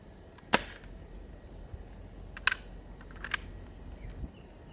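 A Nerf blaster firing X-Shot foam darts: three or four sharp snapping shots with brief clicks between them, close and crisp over a quiet room, no voices.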